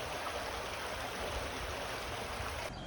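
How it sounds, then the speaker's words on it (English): Mountain creek water flowing continuously, a soft steady rushing and babbling without talk. "And when you walk over here, it's a nice little creek."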